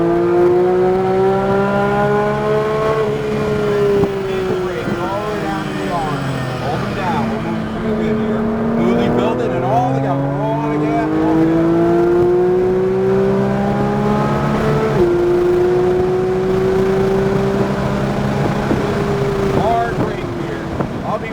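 A GT3 race car accelerates hard around track corners, its engine note rising and falling in long sweeps of revving as it shifts, heard from inside the car with wind noise and a voice talking throughout.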